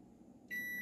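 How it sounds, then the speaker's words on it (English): Kitchen timer going off while canning okra, a steady high electronic beep that starts abruptly midway and holds, fairly faint in a quiet room. "so there was the timer"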